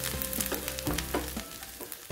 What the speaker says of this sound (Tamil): இந்த வெங்காயத்தை நம்ம வந்து நல்லா செம்பு கலரில் மாறுற அளவுக்கு நல்லா வதக்கிக்கலாம்